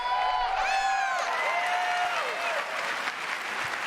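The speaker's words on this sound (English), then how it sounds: "I'll see you there, clapping." An audience at the Bethesda 2019 conference claps and cheers continuously, with a few whistles rising above the steady wash of applause.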